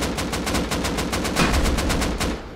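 Rapid automatic gunfire in the survival video game Rust, a continuous loud burst of evenly spaced shots at close range, with no talk over it.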